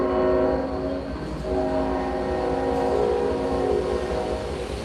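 Passing train sounding a long, loud horn over a continuous rolling rumble, close by, with the horn's tone wavering slightly as it holds.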